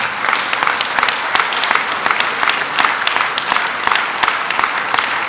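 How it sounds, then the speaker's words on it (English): Steady, full audience applause at an award presentation, a loud continuous patter of many hands sustained throughout without a voice over it. "I would like to give a round of applause for everybody else here,"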